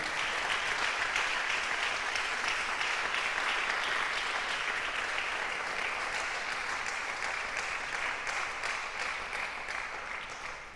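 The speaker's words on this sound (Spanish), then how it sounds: "Dele un aplauso al Señor" A church congregation applauds at a religious service: dense, steady clapping from many people, sustained for about ten seconds and fading slightly at the end.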